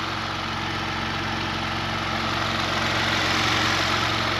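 Steady, even engine idle from a Porsche Macan GTS with the engine bay open, a continuous low rumble holding the same level throughout with no talk.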